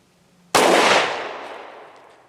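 A single sharp, loud shot from a Kel Tec PR-5.7 pistol cracks close by after a quiet start, its report decaying over about two seconds.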